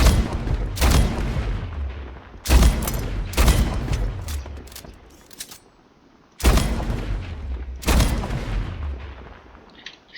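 Sniper rifle shots in the first-person shooter game Splitgate: four loud, sharp reports spaced a few seconds apart, each with a booming low tail, close and alone.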